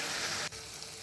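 Chicken skin frying in hot oil with no water added, a dense steady sizzle that briefly drops off halfway through and then resumes slightly quieter.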